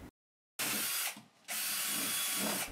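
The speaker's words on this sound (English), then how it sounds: "A hole was drilled to the top of the box so that I could insert the jigsaw and cut the circle." Power drill boring a hole through the top of a box built from 1/4 inch MDF, two loud sustained whirring bursts separated by a brief dip, heard alone with no talk.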